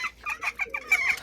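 Farm chickens clucking up close in a quick, uneven run of short calls that overlap and rise toward the end, with no other sound.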